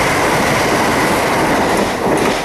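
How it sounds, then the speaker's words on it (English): Train passing close along a coastal railway, a loud, continuous rush of rolling wheels and rail noise that holds steady throughout with no voices over it. "here's a train"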